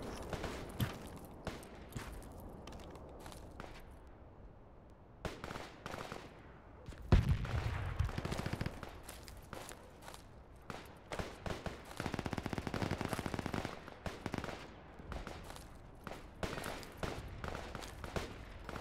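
Rifle gunfire in the tactical military shooter Project Reality during a skirmish: scattered bursts and single shots, some close and sharp, others distant, forming an uneven fusillade over steady background noise.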